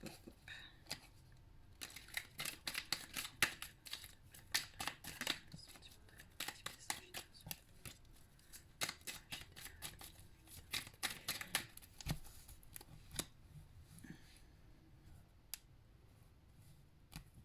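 Oracle cards shuffled by hand during a Sagittarius tarot-style reading: a continuous run of crisp papery riffles and flicks, close and moderately loud, with irregular bursts and brief pauses and no voices.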